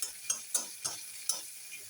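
A spatula stirs fish curry with tomato in a pan, scraping in uneven strokes about every quarter second over a soft, faint sizzle.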